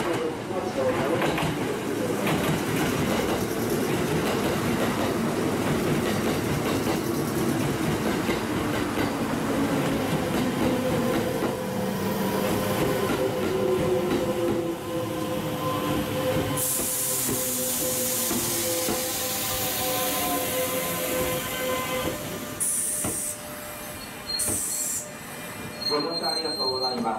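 A Kintetsu 12200 and 22000 series electric limited express train bound for Nagoya rolls slowly into Shiroko Station with long squealing wheels and hissing air, while a voice speaks over the rumble.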